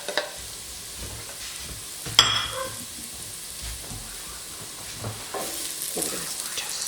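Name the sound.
tomato rice base frying with bay leaves in pot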